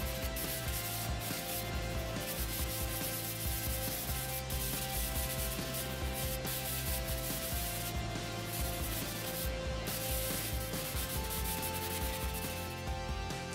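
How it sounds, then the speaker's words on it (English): Continuous sanding of a two-level wooden CD shelf through grits up to 180, a steady close rasping rub with no breaks or talking. "everything got sanded up through 180 grit"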